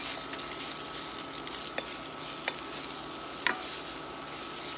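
Beef cubes searing in hot oil for a stew, a continuous bright sizzle with a few sharp stirring clinks and scrapes now and then, heard up close with no voices.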